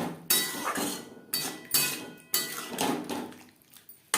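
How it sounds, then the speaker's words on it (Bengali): Metal utensils and a pan knock and clatter quietly as a coconut-grinding jar is rinsed and its water poured into a pan of niramish chichinga gravy, a few separate bursts with splashy noise in between and no voices. "এখানে আমি যে জারে করে নারকেল বেটেছিলাম সেটা ধুয়ে জল এড করি"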